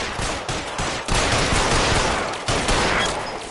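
Rapid, sustained gunfire in the video game L.A. Noire, a dense fusillade of repeated shots filling the whole stretch, loud and close with brief dips before the volley resumes.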